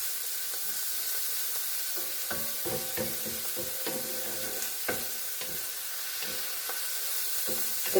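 Dandelion greens and garlic frying in a skillet, a steady close sizzle with crackles and pops, punctuated by scraping stirs against the pan.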